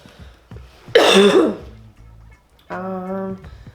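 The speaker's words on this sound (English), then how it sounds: "What is making me cough?" A single harsh cough bursts out inside a storage unit full of old kitchen items, followed moments later by a short, voiced throat-clearing grunt, close and fairly loud.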